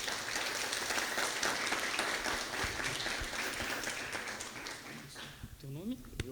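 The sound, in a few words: applause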